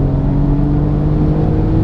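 Alfa Romeo Giulia Quadrifoglio engine on a race track, a loud steady droning note held at high load, with no voices heard.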